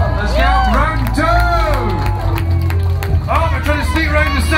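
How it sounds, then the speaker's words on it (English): Crowd at a five-on-five match between Australia and Quebec, loud cheering and babble with scattered claps and shouts throughout, under a commentator's voice. "let's get behind both teams, give them a cheer!"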